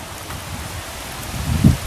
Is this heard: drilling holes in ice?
no